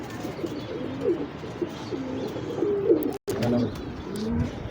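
Highflyer pigeons coo and flutter softly in a partitioned loft, a steady low murmur of several birds with a brief gap partway through.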